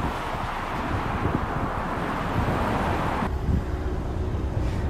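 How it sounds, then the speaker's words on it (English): Steady roadway traffic near Palomar Airport, a continuous broadband rumble and whoosh of passing cars heard from close by, mixed with wind buffeting the microphone, the noise thinning slightly partway through. "as you can hear, the traffic is actually quite a bit louder than the airplanes"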